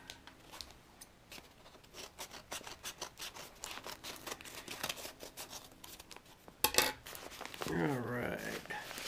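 Scissors cutting open a shipping package: a long run of quick snipping and crinkling clicks, close and fairly quiet, ending with louder rustling. A voice speaks over part of it.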